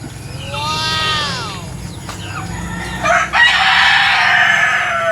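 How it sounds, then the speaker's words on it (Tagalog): A rooster among many chickens gives one loud, drawn-out crow near the start, followed by a busy stretch of clucking and farmyard noise. "Ang daming manok na Nanay Nora ano."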